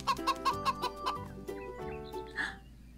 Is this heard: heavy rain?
no